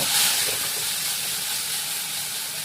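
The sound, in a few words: spice masala poured into hot oil, sizzling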